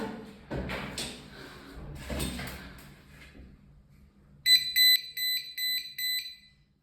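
A non-contact voltage detector held near electrical cable in an apartment being rewired gives a series of sharp, high electronic beeps in quick pulses near the end, after some handling and rustling noises.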